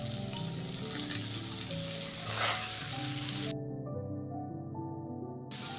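Kakrol greens hit a hot pan and fry with a loud, even sizzle and crackle, close up and continuous, with a faint tonal background underneath and no speech.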